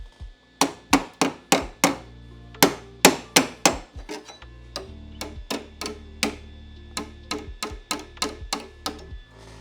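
Metal rust converter part being hammered into place before welding: about two dozen sharp, ringing blows in quick bursts, close and loud, each decaying briefly before the next.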